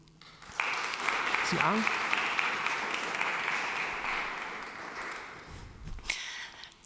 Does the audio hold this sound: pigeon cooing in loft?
no